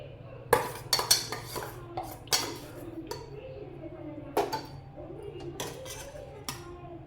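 Eggs are dropped into a pot of egg dum biryani gravy, giving several sharp clinks and knocks against metal cookware with a spoon clattering in between, close and distinct over a low background hum.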